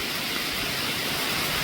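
Steady rain pours outdoors on the Appalachian Trail as a dense, even hiss of broadband wash, loud and constant throughout the short stretch, with no voices.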